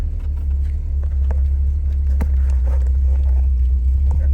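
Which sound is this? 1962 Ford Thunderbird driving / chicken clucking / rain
1962 Ford Thunderbird driving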